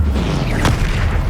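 A Descendo spell slams down in Hogwarts Legacy, a single sharp boom cutting through a steady bed of game music and ambience, loud and close.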